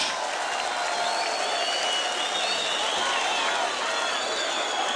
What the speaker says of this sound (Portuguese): Palmas para as minhas dançarinas